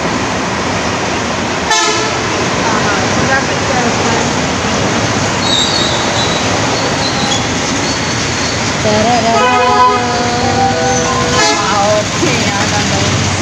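A train rumbles past close by with clattering wheels and a couple of horn toots, while people talk faintly in the background.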